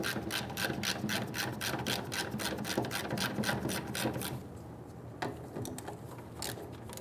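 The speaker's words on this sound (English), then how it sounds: "We're going to remove the 5/16 bolts around the top of the fuel pump sending unit." Ratchet or power tool backing out 5/16 bolts around the top of a fuel pump sending unit on a 1994-2004 Ford Mustang, a rapid, steady mechanical clicking that stops after about four seconds, followed by fainter scattered clicks.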